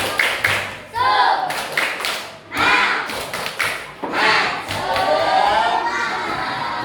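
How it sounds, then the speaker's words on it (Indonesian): Schoolchildren in a classroom do a rhythmic spirit clap, loud close bursts of hand claps in quick patterned groups mixed with children shouting along. "Sebelumnya tepuk semangat."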